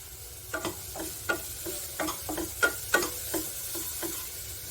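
Lightly salted grated coconut dry-frying in a pan, a soft steady sizzle broken by a series of distinct scraping stir strokes at irregular intervals, close and fairly quiet with no voices.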